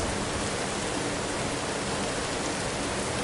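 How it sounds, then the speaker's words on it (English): Steady rain falls outside a window, a dense, even hiss with no breaks or distinct drops, alone and fairly soft. "the faint rhythm of rain outside your window"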